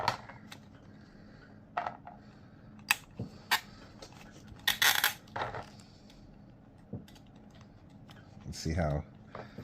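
The ratcheting joints of a Beast Kingdom King Shark action figure click sharply as the figure is posed. The clicks come in scattered single snaps and short bursts, close and crisp, and someone talks quietly between them.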